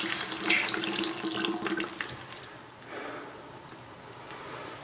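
A tap gushes water into a sink, loud and splashy at first and then thinning to a softer trickle, with a few small clicks; the water is running cold with no hot coming through.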